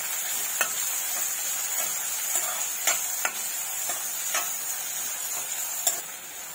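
Chopped medium onion frying in oil for flower-matar sabji: a steady broadband sizzle runs throughout, broken by several sharp scraping clicks of a spoon stirring against the pan, with no talking.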